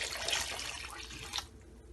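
Water poured into a flour mixture for beef nihari, a faint, brief splashing trickle lasting under two seconds and then fading out.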